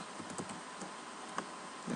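Java code typed on a computer keyboard for an if statement in NetBeans: quiet, irregular key clicks spaced through the moment, a few slightly louder taps, with no talking.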